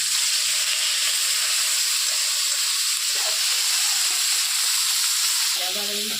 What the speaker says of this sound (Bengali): এখন মাছ কাটা সুন্দর করে ভেজে নিই